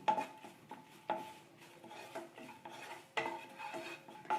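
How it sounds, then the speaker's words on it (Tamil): Half a cup of curry leaves frying in a pan on residual heat with the stove off, soft scraping stirs and utensil clinks against the pan over a faint sizzle, close and quiet, without speech. "இந்த ஹீட்டில் நம்ம இந்த ஒரு 1/2 கப்பு கறிவேப்பிலை இதை சேர்த்துக்கிட்டு இந்த சூட்லேயே நம்ம இதை நல்லா ஃப்ரை பண்ணணும்."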